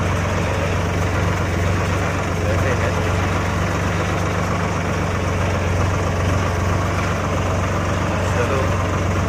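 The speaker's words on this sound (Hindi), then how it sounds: "अभी हम चला रहे हैं ट्रैक्टर।" A tractor engine runs steadily on a farm with pea fields, a continuous low diesel rumble, loud and close, with no pauses.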